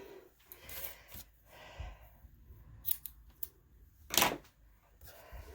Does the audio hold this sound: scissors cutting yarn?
yes